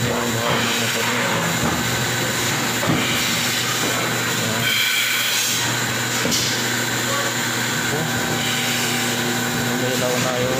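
A blowing machine's motor runs steadily nearby, a loud continuous mechanical hum with a constant whirring drone and no breaks.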